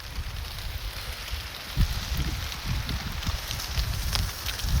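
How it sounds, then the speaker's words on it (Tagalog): Steady rain falls outdoors during a typhoon, a dense hiss with low rumbling gusts and patters swelling throughout, with no voices. "Umuulan na."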